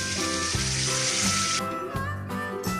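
A spice mixture being sautéed for kosha in a home kitchen pan, heard as a loud, steady sizzle and frying hiss with occasional stirring scrapes over a few seconds, close up and without speech.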